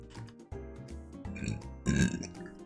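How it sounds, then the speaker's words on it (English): Several belches burst out while someone samples Cocoa Krispies cereal, the loudest and longest near the end, close and fairly loud with no talk over them. "I already have burps and we've just begun"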